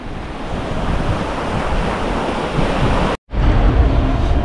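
Ocean waves wash steadily at Casa beach on a peninsula in Panama, a loud continuous rush of surf mixed with wind buffeting the microphone, with a momentary dropout near the end.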